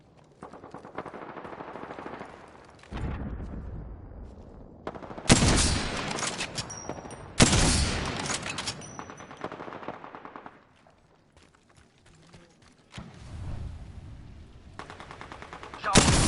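Gunfire in the Apex Legends video game: several long, loud bursts of automatic fire separated by short pauses, with quieter stretches and some faint background game sound.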